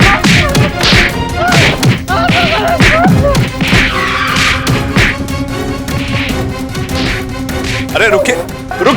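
Repeated thwacks and thuds as a group of people beat a lawyer in a courtroom drama, landing in quick irregular succession over shouting and background music.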